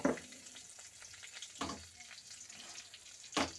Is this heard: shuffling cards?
no